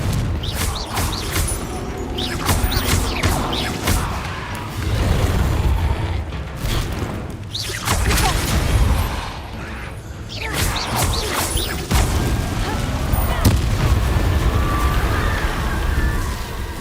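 Confringo spell blasts in a video game, booming explosive bursts with crashing debris that recur across a dense, loud mix of magical effects and rumble, no talking.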